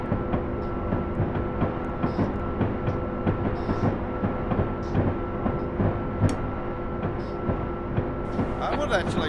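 An Amtrak locomotive in the Train Simulator Classic game rumbles along the track with a steady low drone. The wheels click rhythmically over rail joints, and someone talks over the train sound throughout.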